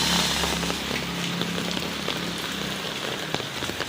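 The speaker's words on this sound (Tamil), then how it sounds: "மழை பெய்யுது" Rain falls steadily onto a surface, a close patter of many drops with a low hum underneath early on, constant and moderately loud with no talking.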